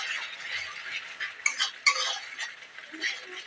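Chicken cooking with salt, turmeric and spices in a pan is stirred and sautéed: repeated scraping and clinking of a utensil against the pan over a soft sizzle, close and fairly quiet.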